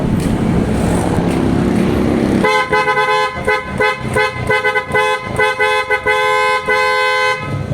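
A loud PIAA Oto-style horn on a Suzuki Every Wagon blares in a rapid series of repeated honks, some short and some held, after a stretch of rumbling noise.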